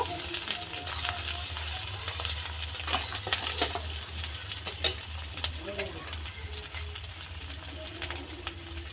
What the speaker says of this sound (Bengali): এবার দিয়ে দেবো আমি রসুন আর আদা বাটা। আদার গন্ধটা যাতে চলে যায় সেই জন্য আমি হালকা আর একটু ভেজে নেব।